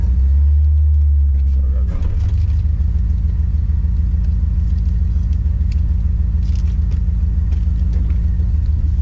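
A car with a glass roof runs on the road, its engine giving a steady, loud low rumble throughout. A thump near the start precedes the continuous drone.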